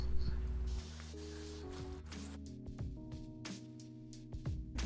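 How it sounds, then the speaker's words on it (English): A spray can lays light coats of lacquer onto a steel coffee table base outdoors: a long, soft hiss at first, then a string of shorter, fainter spray bursts over a low tonal background. "Then I took the table outside and sprayed a few light coats of lacquer to protect the steel from rust."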